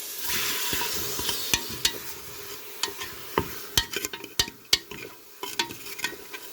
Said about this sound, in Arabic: ونقعد نقلي في البصل تاعي مع الدجاج